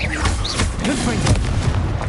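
Confringo spell blasts in the Hogwarts Legacy video game, a steady run of booming, explosive impacts with low rumble filling the whole span, loud and close.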